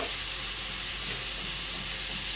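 Meat fries with ginger-garlic paste and salt in mustard oil, a loud, even, hissing sizzle filling the whole stretch without pause, close by and without speech.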